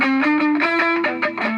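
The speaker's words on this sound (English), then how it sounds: "While the distortion guitar goes A," Distorted electric guitar strums sustained chords with a thick, saturated tone, changing chord several times across a brief, loud passage.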